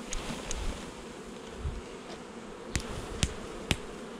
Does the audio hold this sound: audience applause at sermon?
no